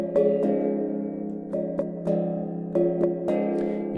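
Tuned gongs played as a patterned sequence of mallet hits, each strike ringing with a bright metallic sustain, accents falling in an uneven rhythmic pattern, clean and close with no talking.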